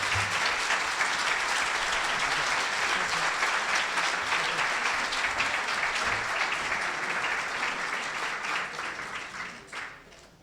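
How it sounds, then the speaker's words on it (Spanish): A large audience at a congress breaks into sustained, dense applause that stays loud and steady for about nine seconds before fading out at the end, with no talking over it. "Le ruego un fuerte aplauso para Matías Di Stefano."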